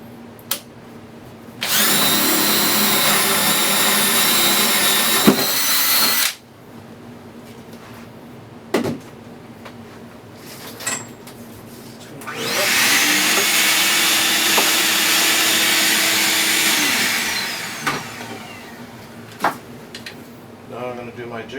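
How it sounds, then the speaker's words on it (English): A power drill bores a starter hole through wood for a jigsaw blade during a hexagonal gaming table build, two loud sustained whirring bursts separated by pauses and small clunks. "I'm going to cut a starter hole to put my jigsaw in."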